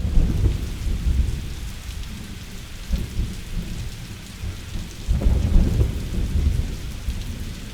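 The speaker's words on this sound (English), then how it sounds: "A sudden tropical storm suspends the games for 30 minutes." A sudden tropical thunderstorm in the Colombian Amazon, with heavy rain pouring steadily and low thunder rumbling in swells, loud and continuous with no voices.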